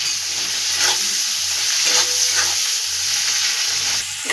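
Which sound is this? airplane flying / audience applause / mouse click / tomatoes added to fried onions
tomatoes added to fried onions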